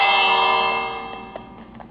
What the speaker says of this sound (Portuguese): Eu vou levar esse sino.